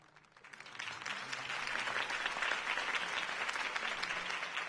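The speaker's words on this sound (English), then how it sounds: "If only Mr. Wayne, my campaign's largest backer, could have heard that applause" Crowd applause in a Batman video game, a sustained wash of clapping that swells in over the first second and then holds steady and loud, with no talk over it.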